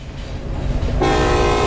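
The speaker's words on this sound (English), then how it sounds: "I'm just honking." In the Metro Sim Hustle subway game, a train rolls with a low rumble before a loud, sustained horn blast cuts in halfway and holds to the end.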